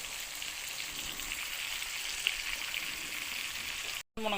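Tilapia fries in a pan of oil, a steady close hiss of crackling sizzle throughout, with a brief dropout near the end.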